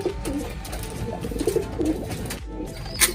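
Pigeons in a loft give soft, low throaty coos over a steady background murmur, several birds close by, with a brief flutter near the end.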